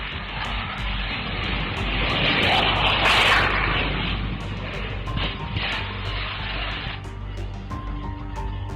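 A CF-18 fighter jet crashing at an air show in Canada roars loudly and continuously, swelling to a rumbling peak before easing off, with a harsh, crashing edge to the noise.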